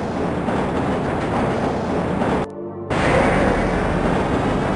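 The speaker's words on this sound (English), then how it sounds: "This train is inbound from Level 3 dormitories to Sector C test labs and control facilities." Black Mesa tram from Half-Life rolling along its rail line, a steady loud rumble with a brief dropout near the middle, then the heavy rolling noise resumes.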